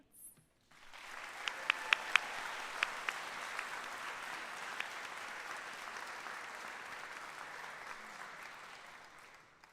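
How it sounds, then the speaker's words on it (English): Audience applauding at a university school of pharmacy pinning ceremony, honoring student scholarship donors and recipients: steady, dense clapping from a large crowd sustained for about nine seconds, with a few sharp individual claps near the start, then fading out. "Please join me for a round of applause to thank all of those who make our student scholarship possible"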